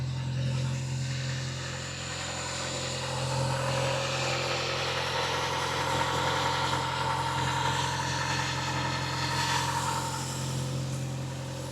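A Toyota Celica GT-Four engine idles steadily and close by, a constant low hum with a faint rhythmic throb that holds level throughout without any revving.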